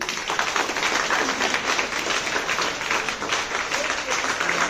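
Schoolchildren clapping at a 77th Independence Day celebration at a high school, a continuous wash of many small hands at a steady, dense level, with crowd noise and possible voices mixed in.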